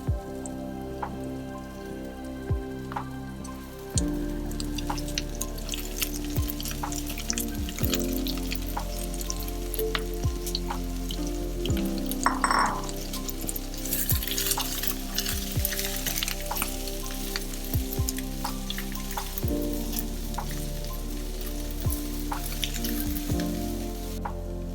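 Sliced onions frying in a pan for a Kerala-style crab roast, a constant crackling sizzle with popping spatters, close and steady, over a low background hum and no talk.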